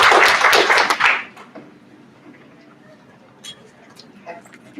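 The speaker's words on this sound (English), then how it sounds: "a round of applause." An audience at an annual research day claps briefly, a loud burst of applause lasting about a second before fading into quiet room sound with a few faint taps and scattered noises.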